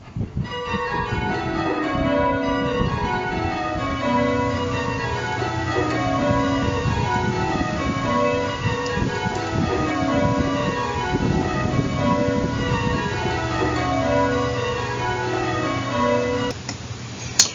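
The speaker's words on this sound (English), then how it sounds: "a very short burst of rounds there, being rung very nicely, by the way, by these ringers" Church bells change ringing in rounds, led off by the treble, with a steady repeating descending cascade of bell strikes that rings on evenly and loudly.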